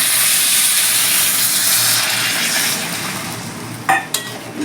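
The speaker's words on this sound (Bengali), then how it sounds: "এবার আমি পরিমাণ মতো জল দিয়ে দিচ্ছি" Water poured into a hot pan of Katla fish head and potatoes cooked with spices, a loud rushing hiss of steam that gradually fades, followed by a couple of sharp clinks of utensils against the pan.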